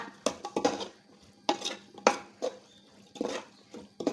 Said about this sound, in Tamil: மஷ்ரூமை சேர்த்து கொடுத்துக்கோங்க சேர்த்துட்டு மசாலாவோட நல்லா கிண்டி கொடுத்துக்கோங்க